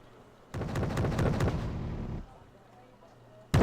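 Artillery shots fire in a World War II-era video game battle, a dense burst of booming, crackling blasts lasting under two seconds, then a quieter rumbling tail before another sharp blast at the very end.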